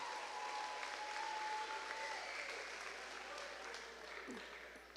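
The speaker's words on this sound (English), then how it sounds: "Give it up for this Move for Mana team. Big round of applause." Audience at a school event giving a round of applause for a student fundraising team, a broad steady clapping wash that holds evenly and fades slightly at the end, with faint voices underneath.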